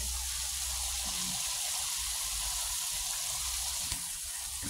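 Garlic frying in a pan, a steady broad sizzle that holds at an even level throughout with no voices.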